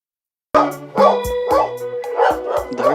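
Several dogs bark loudly and repeatedly at a rescue shelter in Las Vegas, overlapping yaps and woofs in a steady, busy rhythm with no pauses after the sudden start.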